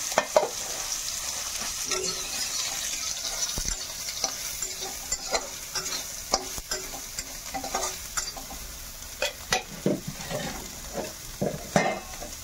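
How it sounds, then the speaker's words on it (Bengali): Soybean chunks fry in hot oil, a close, continuous crackling sizzle broken by frequent sharp ticks and clacks of stirring against the pan, growing more uneven toward the end, with no voices. "এবার সোয়াবিনটা আমি ভেজে নেবো ভালো করে, লাল লাল করে।"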